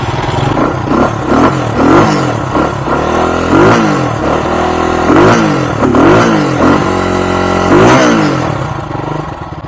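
A 150cc RPS Condor motorcycle engine, freshly re-jetted and still cold, revs repeatedly in loud close bursts, the pitch sweeping up and down over a steady idle.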